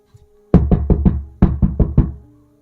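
Knocking on a wooden door: two loud, close sets of four sharp raps each, separated by a brief pause, ringing with a hollow resonance in an otherwise quiet interior.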